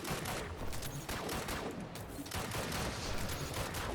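Rapid automatic gunfire from a weapon in the video game Destiny rattles continuously in dense, overlapping bursts, loud and close, with no pauses across the whole stretch.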